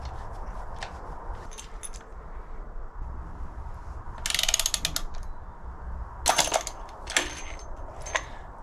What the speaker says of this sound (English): I should be able to actually take this bolt out now